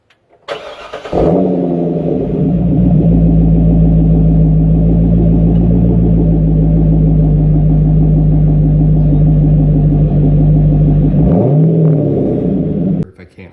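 A Chevrolet C6 Corvette LS V8 with Hooker Holley Blackheart exhaust fires up, settles into a loud, steady, lumpy idle with deep rumble for about ten seconds, then shuts off.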